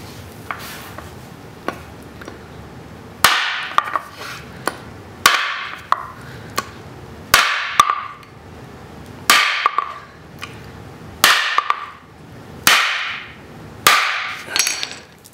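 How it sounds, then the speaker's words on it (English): Sharp hammer blows strike an Apple Lightning cable one after another at a steady pace, about a dozen loud metallic strikes with short ringing decays, no talking. "we're going to start off with just Apple's own lightning cable to see how well that stands up to a hammer"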